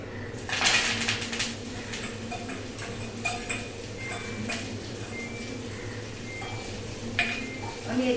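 Curry leaves and green chilies crackle and sizzle in a cumin tempering, a steady close frying hiss with light ticks and a few stirring clinks, no voices.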